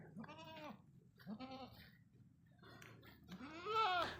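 Goats, a one-year-old male among them, bleat three times in quavering calls, the last one longest and loudest, with quiet gaps between.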